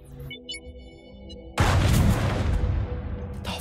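A planet detonating in the space game Astroneer: after a steady electronic hum with faint beeps, a sudden massive explosion erupts into a loud, sustained roaring rumble that slowly tapers off.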